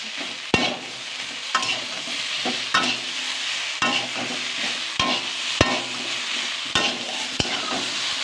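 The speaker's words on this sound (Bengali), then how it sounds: "তারপরে এটা ভালো করে নেড়ে দিতে হবে" Chili paste with cumin frying in a pan, stirred steadily, with a constant sizzle and sharp utensil scrapes against the pan at regular intervals, close up and loud with no talking.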